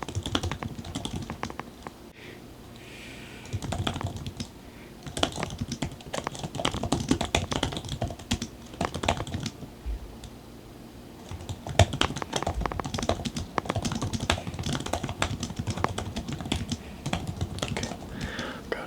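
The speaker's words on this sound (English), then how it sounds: "Okay, so I'm just gonna type all the notes up real quick." Quick, continuous typing on a computer keyboard in a quiet room, soft close key clicks with brief pauses between bursts, running steadily throughout.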